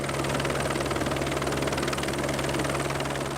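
A five-bladed Airbus helicopter carrying up to eight passengers runs with a dense, steady engine drone and rapid rotor beating, loud and continuous with no speech.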